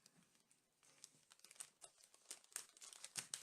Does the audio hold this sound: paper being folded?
yes